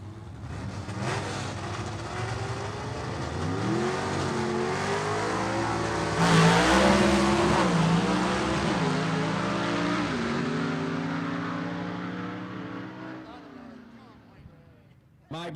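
Gasser drag race cars from the Southeast Gassers Association at Gulfport Dragway roar down the strip, engines rising and shifting through gears loudly before fading into the distance, with an announcer talking over them.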